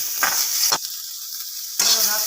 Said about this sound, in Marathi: टमाटर, आलं घेतलेलं आहे, लसूण घेतलेलं ते पण टाकून घ्यायचं, जिरं पण टाकून घ्यायचं, हे सगळं भाजून घ्यायचं